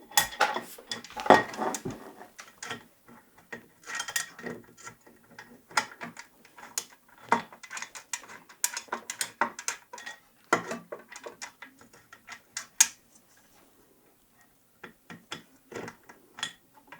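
A bolt is screwed in while assembling a Creality Ender 3 3D printer, giving close, irregular metallic ticks, clicks and ratcheting taps from a hand tool, scattered throughout with brief pauses.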